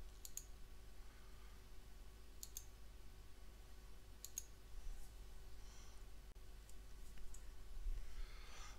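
Soft computer mouse clicks come in quick pairs, spaced every couple of seconds against a quiet electrical hum, as folders are opened in video-editing software.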